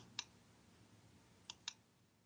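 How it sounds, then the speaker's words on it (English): Sparse, faint clicks of computer keyboard typing in a quiet room, one isolated keystroke and then a quick pair after a pause. "I can hear you typing."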